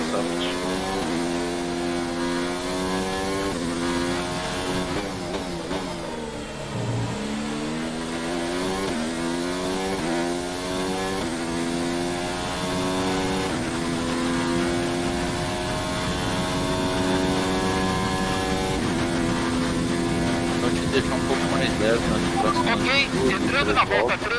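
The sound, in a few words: Formula 1 car engine accelerating in video game F1 2019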